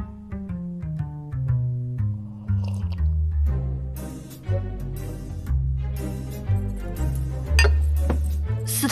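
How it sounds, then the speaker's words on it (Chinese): Glasses clink together in a celebratory toast at a shared meal in an animated fantasy series, with short bright chimes over steady background music. "为了庆祝哥哥回来，干杯！"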